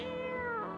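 A cat meows in a video game, one drawn-out, close and clear meow lasting under a second with no talk over it.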